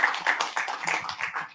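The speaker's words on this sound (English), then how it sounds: "Give a round of applause, please." Short burst of audience applause at an open-source firmware conference session: scattered hand claps at close range, rising and falling briefly before fading out.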